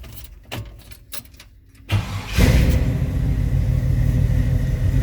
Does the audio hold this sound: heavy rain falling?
no